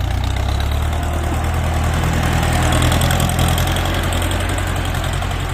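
A Ford 6640 tractor's heavy diesel engine drones steadily and loudly throughout while plowing a muddy field for rice, a low rumbling chug with constant vibration, close by and without any voices.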